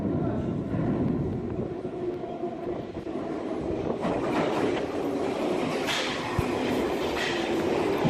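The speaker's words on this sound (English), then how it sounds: "Next up, we have the Piccadilly Line. These are called the 1973 stock." A London Underground Piccadilly Line 1973 stock train rumbles steadily and loudly, with a constant roar and some higher rattling partway through.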